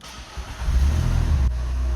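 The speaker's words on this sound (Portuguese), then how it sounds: "Demos a partida, o motor pegou, carro funcionando" A BMW X1 engine cranks briefly, then catches and settles into a steady, loud low rumble close by.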